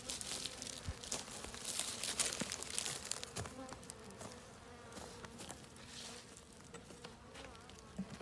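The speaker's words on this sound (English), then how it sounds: "this was basically leftover bees in a swarm that we caught" Dense, continuous buzzing of a honeybee swarm close by, with occasional crackly rustles and faint clicks mixed in.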